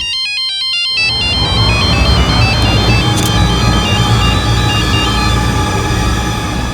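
A phone rings with a beeping electronic tone that stops after about a second, followed by loud steady background music and noise.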